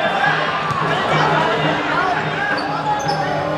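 Basketball crowd at a 2013 ABL game between Westports Malaysia Dragons and JobStreet.com Singapore Slingers jeering a player, a steady babble of many voices filling the arena while a ball bounces repeatedly on the court nearby.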